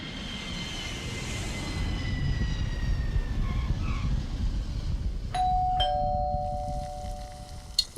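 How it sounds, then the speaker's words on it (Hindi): A two-tone doorbell chimes clearly near the end, ringing out over a steady low rumble with a faint aircraft-like drone earlier on. "एक तो काम के वक्त जो घंटियां बजती हैं ना"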